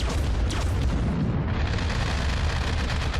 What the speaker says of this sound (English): AA guns are going to town.